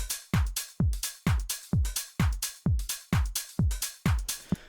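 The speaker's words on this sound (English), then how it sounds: "So the drums sound like this." Simple house-style dance drum loop built in FL Studio: steady four-on-the-floor kick thumps with hi-hat ticks and a clap, repeating cleanly and loud with no voices.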